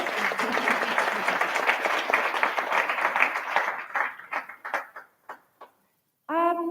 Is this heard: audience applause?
yes